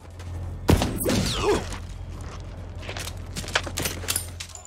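Sniper rifle gunfire in a Steven Seagal action film: a sharp, loud shot that rings out, followed by scattered thuds and further crackling impacts against a low background hum.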